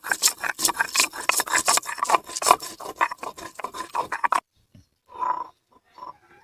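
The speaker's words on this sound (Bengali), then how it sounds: "এখানে নিয়েছি এলাচগুলো বেটে নেব।" Cardamom pods are ground on a stone in a village kitchen with repeated rough back-and-forth rubbing strokes, close and fairly loud, ending in a brief pause and a couple of lighter scrapes.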